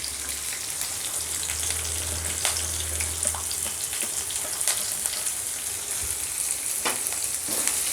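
Chopped onions and green chillies frying in a pan, a soft steady sizzle and crackle with a few faint pops and clinks, moderately quiet and without talk.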